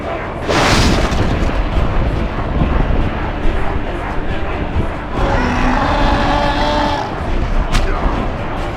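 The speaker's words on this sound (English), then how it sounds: "the orcs' catapults had closed in on the city" Orc catapults fire on a besieged city in Lord of the Rings: Aragorn's Quest, one heavy boom followed by rolling, rumbling battle noise and a later swelling roar.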